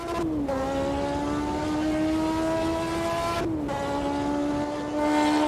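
A high-pitched F1 race car engine in the Automobilista 2 racing game whines steadily, dropping in pitch twice as it shifts gears before climbing again, loud and continuous with no voices.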